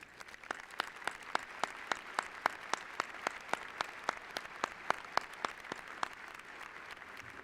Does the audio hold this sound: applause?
yes